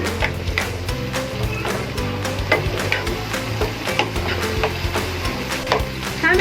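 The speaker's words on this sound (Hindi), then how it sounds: "चिकन शामिल करके इसको इतनी देर तक भूनेंगे जब तक ये अच्छी तरह पक जाए" Chicken frying in a pan with steady loud sizzling, broken by frequent scraping and tapping of a spoon as the pieces are stirred and turned, close up.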